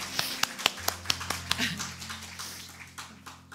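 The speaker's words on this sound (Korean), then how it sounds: "오늘 우리를 찬양케 하신 주님께 감사와 찬양의 박수 올려드리기 원합니다" A church congregation claps in praise during a special dawn prayer service, a run of sharp, fairly sparse claps in quick rhythm that fades into a low hum after about a second and a half.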